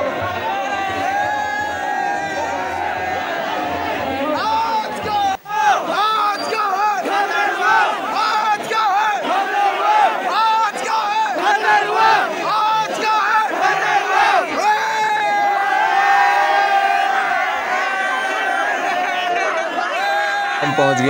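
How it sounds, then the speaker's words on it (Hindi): Dense crowd chanting and shouting slogans in unison during the Nanda Devi doli procession through packed streets of Almora, a loud continuous roar of many voices with rhythmic cries, sustained throughout with a brief dip partway. "ये आप लोग सुन सकते हैं आज क्या है खतरवा का नारा"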